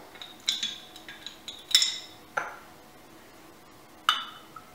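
Vodka goes over a glass full of ice for a chocolate martini: a few bright, delicate clinks and pings of ice against glass, close and quiet, spaced irregularly.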